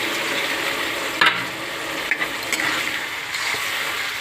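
Boiled vegetable curry sizzles in a pan just after a splash of water goes in, a moderate bubbling hiss broken by a few sharp clinks and stirring knocks, with no talking.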